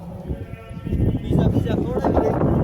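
Goats bleat with wavering cries close by in a village, rising over steady background chatter of people talking.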